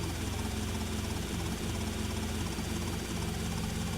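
Helicopter engine idling in the video game GTA Vice City, a steady whirring drone with low rotor chop holding at an even level throughout, moderately quiet and with no talking.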